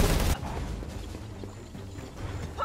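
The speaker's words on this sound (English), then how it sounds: "Let's detonate them to be sure. Light them up." An explosive compound detonated in Predator: Hunting Grounds, one loud blast at the very start cutting off into a low rumbling tail with scattered faint debris, no talk.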